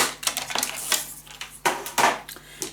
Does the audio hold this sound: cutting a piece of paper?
yes